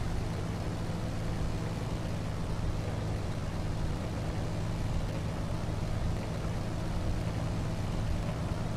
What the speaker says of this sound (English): Kind of expected like a little bit more of a beefy noise to come from this thing, but I guess the engine's not very large